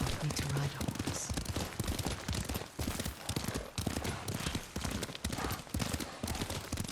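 Steady clip-clop of horse hooves at a trotting rhythm in Ghost of Tsushima, fairly close, with a voice speaking over it and ambient outdoor game sound.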